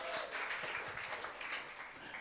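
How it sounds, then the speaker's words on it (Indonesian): A church congregation applauding, a broad, continuous wash of many hands clapping at moderate volume that eases slightly toward the end. "Tepuk tangan lagi buat Tuhan"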